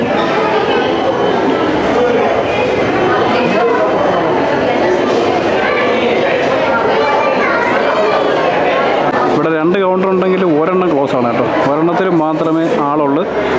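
Dense crowd chatter fills a busy ticket counter at the Kochi water metro, many overlapping voices loud and close throughout, with a clearer nearby voice talking over the hubbub toward the end.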